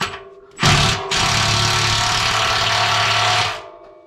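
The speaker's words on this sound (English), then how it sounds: "Now we're gonna take and loosen the muffler" A power tool loosens the through-bolted muffler on a Can-Am X3, bursting in loud and close after a brief start, then running steadily for about three seconds before cutting off.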